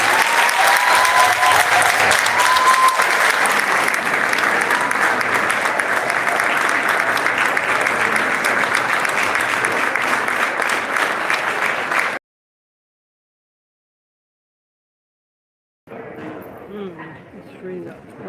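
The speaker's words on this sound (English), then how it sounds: "Please give a big round of applause" An audience at a congresswoman's special announcement breaks into sustained applause and crowd noise, loud and steady for about twelve seconds before a sudden cut to silence, followed by faint muffled activity.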